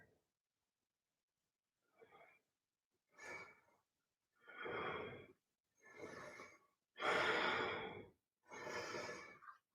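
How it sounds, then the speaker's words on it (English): Slow, deliberate breaths during a yoga warrior pose: a soft exhale, then a run of deeper, louder breaths in and out at a steady rhythm, close and unaccompanied by talk. "And just breathing out."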